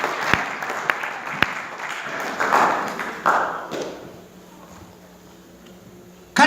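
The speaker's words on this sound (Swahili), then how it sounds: "Let's clap hands for Jesus." A church congregation breaks into clapping for Jesus: a few sharp single claps, then a swell of mixed applause that fades to near quiet, with a sudden loud burst at the very end.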